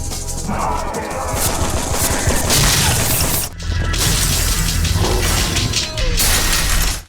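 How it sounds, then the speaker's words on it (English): Explosions and shotgun blasts from the video game Parkside, a loud, dense barrage of booms and gunfire crashes filling the whole stretch, with a brief dip midway before the din resumes. "Good explosions and shotgun noises that feel extraordinarily era appropriate."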